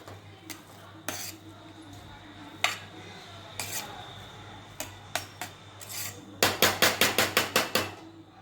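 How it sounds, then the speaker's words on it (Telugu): Bagara rice is mixed with ghee in a pot, a metal spoon scraping and knocking against the sides in scattered strokes that end in a quick run of rhythmic clanks, with no talking. "నెయ్యి వేసి బాగా మిక్సీ చేసి"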